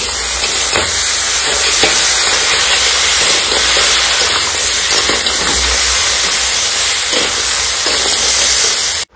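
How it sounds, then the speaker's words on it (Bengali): A cooking pot of water at a rolling boil, making a loud, steady hiss and bubbling roar that runs unbroken to a sudden cutoff, with no speech. "জলটা ফুটে গেছে"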